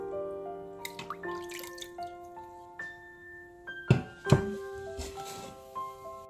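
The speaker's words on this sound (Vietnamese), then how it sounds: "Vắt nước cốt chanh vào." Half a lemon squeezed by hand, its juice dripping into a bowl of ginger soaking in salt water, with soft scattered drips and two louder splashing plops, close and quiet over faint background music.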